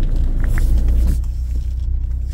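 A car rolls along on new tyres filled with nitrogen, a steady low engine and road rumble filling the interior with a smooth, continuous drone and no voices.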